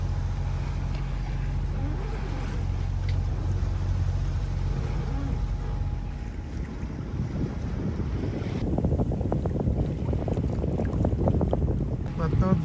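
On a sailing boat heading into a light headwind at sea, steady wind buffets the microphone over the rush of water along the hull. The roar grows rougher toward the end, and a voice speaks partway through.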